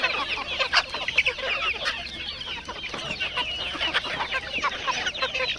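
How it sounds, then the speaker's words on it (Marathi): Black and red desi country hens on a village poultry farm, clucking and chattering constantly in a busy overlapping chorus, close and fairly loud. "किती छान छान कोंबड्या आहेत,"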